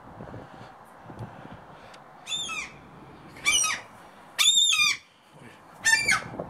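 Seagull calls from a rooftop among ruined Soviet-era water intake structures at a lake in Murmansk, four loud, harsh squawking bursts spaced a second or so apart over a low, steady outdoor background.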